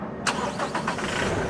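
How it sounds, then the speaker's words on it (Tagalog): Toyota Innova engine cranking and catching at about a quarter second, a sharp burst followed by a few rhythmic turnover pulses that settle into a steady idle, close and fairly loud. "After ko maisaling yan, ilagay ko na itong engine cap, tapos ipa-start ko na itong makina."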